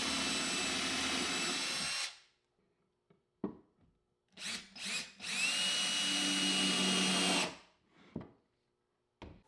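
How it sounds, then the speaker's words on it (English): A power drill whirs in long bursts, driving deck screws into wooden planter box boards, with short pauses and a few knocks between runs; close and loud. "Now we'll attach these with deck screws going through the sides and into the cleat of the adjoining piece."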